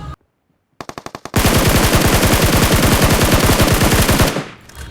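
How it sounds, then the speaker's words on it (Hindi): Automatic gunfire in the mobile battle-royale game PUBG Mobile: a few quick single shots, then a loud sustained burst of rapid, evenly spaced rounds lasting about three seconds before cutting off, with no speech. "मैं लेटता हूँ, मैं फायर करता हूँ।"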